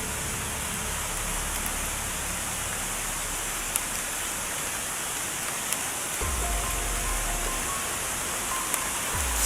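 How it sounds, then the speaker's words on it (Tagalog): Heavy rain pouring down outdoors, a dense steady hiss of drops hitting surfaces, constant and loud across the whole stretch with occasional sharper drips and a low rumble near the end. "Malakas na yung ulan"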